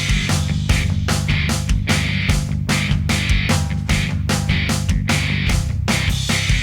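Theme music from a Mario game, a rearrangement of a boss tune from another Mario game, plays loud and continuous with driving, evenly pulsed beats over a steady low bass line, with no voices.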